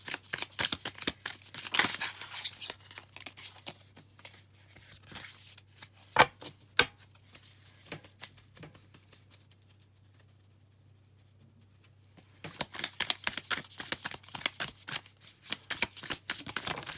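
Tarot cards being shuffled by hand in bursts of quick papery riffles and flicks, busy at the start and again near the end with a quieter stretch between, close up and heard alone over a low steady hum.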